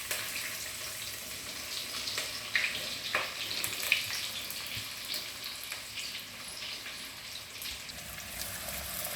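Onions frying in already hot oil for mutton kheema balls curry, a steady bright sizzle with occasional small pops and crackles, close and even throughout.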